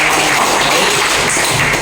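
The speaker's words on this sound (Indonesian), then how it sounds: "Iya, tepuk tangan." Steady applause from an audience at a Kalimantan Barat sambo association event, a dense even patter of clapping that holds for the full stretch with no talk over it.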